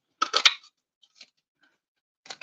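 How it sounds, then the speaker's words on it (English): A craft paper punch cuts a bear shape out of paper: a close, crisp crunch-and-snip burst, then a faint click and a softer second punch sound near the end, with no talking. "I'm using the Beary Cute punch and I'm just going to punch this guy right out of the"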